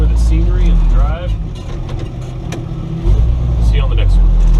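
An old 1958 Chevy barn-find truck drives along with a steady low engine rumble and road noise, the drone swelling and easing slightly, while a voice talks over it.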